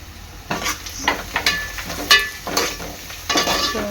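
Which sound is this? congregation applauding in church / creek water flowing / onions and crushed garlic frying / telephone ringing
onions and crushed garlic frying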